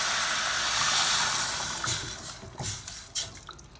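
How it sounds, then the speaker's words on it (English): One quart of warm water poured into a pan of spices, a rushing gush that fills steadily at first, then tapers into splashes and sizzling spatters as the pour slows and stops. "we're going to go ahead and add our water. This is 1 quart of warm water."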